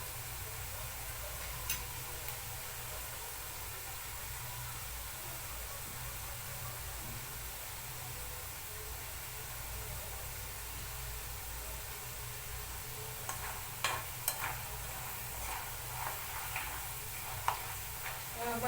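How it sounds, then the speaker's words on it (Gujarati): Potatoes and peanuts frying in oil in a pan while being stirred, a soft steady sizzle with faint scraping and ticking of the spoon toward the end, quiet and without talk. "હલાવશું, તળવા દઈશું"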